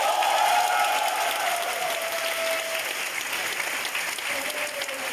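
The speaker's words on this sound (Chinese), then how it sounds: "8:30宣布成绩一刻，学生和家长都忍不住鼓掌。" Students and parents at a Hong Kong secondary school break into sustained applause as exam results are announced, a dense, steady clapping crowd that fades slightly toward the end, with a faint tone in the background.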